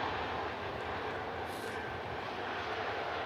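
An airliner arrives with a steady, dense engine roar that holds evenly and fairly loud throughout.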